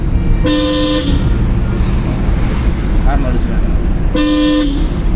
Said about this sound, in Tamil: ஹார்ன் அடிச்சுக்கலாம்.